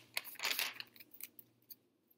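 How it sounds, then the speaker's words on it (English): Quick riffling of a tarot deck being shuffled, a dense flutter of papery snaps followed by a few lighter taps. "I felt called to pick up this deck again and shuffle."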